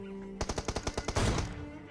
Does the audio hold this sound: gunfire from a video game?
yes